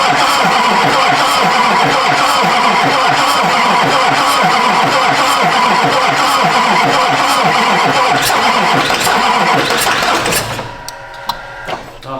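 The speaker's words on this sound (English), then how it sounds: "I reached the end of the starter, but it sounded like it was gonna start" A rusty 20-year-old Duramax diesel truck engine cranks on its starter in a loud, steady rhythmic churn for about ten seconds before the starter stops.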